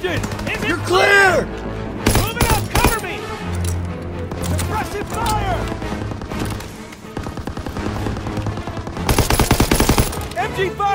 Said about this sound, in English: MG fire! Go, go, go!